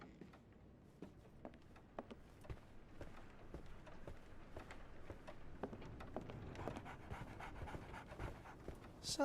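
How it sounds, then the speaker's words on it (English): A dog pants quickly and steadily at close range in a Sherlock Holmes: The Awakened game scene, with soft ambient noise behind the breathing. "So, Barnes has a dog now."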